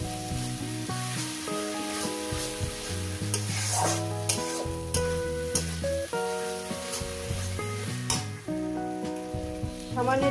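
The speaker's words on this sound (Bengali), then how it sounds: "মিনিমাম শাকটাকে আমি 5-6 মিনিট ধরে ভেজে নেব।" Water spinach sizzles steadily as it is stir-fried in a pan for a fish bhorta, with continuous frying and stirring noise running under prominent background music throughout.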